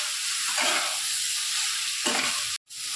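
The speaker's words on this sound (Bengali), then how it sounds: "এবার আমি সবজিটাকে নেড়ে চেড়ে এতে জল দিয়ে দেব" Mixed vegetables stirred and sizzling in a pan for a Bengali-style mix veg, a steady frying hiss with a couple of scraping strokes, cut off by a brief gap near the end.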